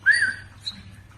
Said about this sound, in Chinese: 喂的时候吹个口哨啊